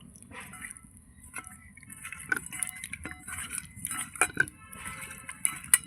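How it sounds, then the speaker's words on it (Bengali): Hilsa fish pieces mixed by hand with spices and mustard oil inside a bowl, giving soft wet squelches and light clinks against the bowl, fairly faint and intermittent over a low background hum. "আমি বাটির মধ্যেই মাখাচ্ছি"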